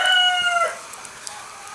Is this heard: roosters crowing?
yes